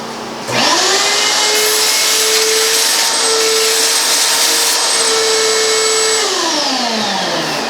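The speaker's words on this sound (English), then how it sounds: "Vacuum out the gross stuff" A vacuum cleaner whirs up loudly, runs at a steady high-pitched drone, then winds down near the end, vacuuming out broken-up old sealing material.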